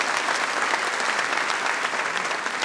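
Comedy-show audience applauding for basketball great Wilt Chamberlain: a steady, dense wash of clapping from a large crowd, sustained and even throughout with no voices over it.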